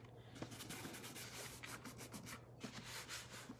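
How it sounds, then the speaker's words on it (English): Wax is rubbed by hand into a handmade Christmas gift, making a faint, continuous scratchy scrubbing with quick repeated strokes close by. "I'm gonna set this one down, and I'm just gonna kind of rub this in."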